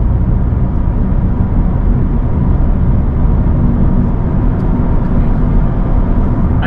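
A car accelerates steadily along an 80 km/h road on a driving test route near Cork, producing a loud, continuous in-cabin engine and road roar with no clear breaks.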